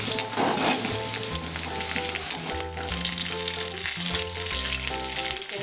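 Pieces of pointed gourd (potol) hit hot oil in a pan for a Bengali pumpkin chokka and set off a loud, continuous sizzle that keeps up evenly throughout.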